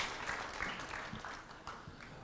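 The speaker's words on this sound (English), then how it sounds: "We have a round of applause for our winners" An audience at the Vic Open triples final claps for the winning team: a short burst of scattered, moderately faint handclaps from a modest crowd, with no voices.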